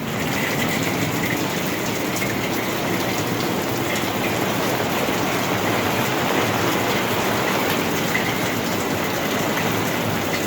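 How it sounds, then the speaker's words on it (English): Steady rain hisses loudly and evenly throughout, a dense wash of drops with no voices. "It's kind of raining."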